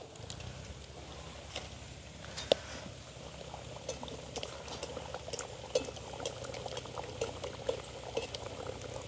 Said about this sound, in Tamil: எண்ணெய் வந்து எங்களுக்கு நல்லா கொதிச்சிட்டுது. இப்போ நாங்கள் தட்டி எடுத்துக்கிற ரொட்டியை பொரிய போடுவோம்.